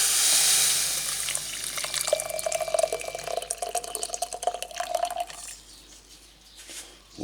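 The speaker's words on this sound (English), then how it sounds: "Now the trick is to pour this in the bottle" Pickling liquid for quick fridge-pickled shallots is poured into a bottle without a funnel, a close trickling, gurgling stream with drips, fading out near the end.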